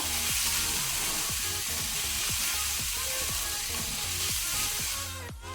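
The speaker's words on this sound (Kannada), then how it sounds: "ಫ್ಲೇಮನ್ನು ಹೈಯಲ್ಲಿ ಇಟ್ಕೊಂಡೆ ಸ್ವಲ್ಪ ಸ್ಟರ್ ಫ್ರೈ ಮಾಡ್ಕೊಳ್ಳೋಣ" Paneer fried rice with butter stir-fries in a pan over a high flame, a loud continuous sizzle broken by repeated rhythmic scrapes and tosses of a spatula, close up and with no voices.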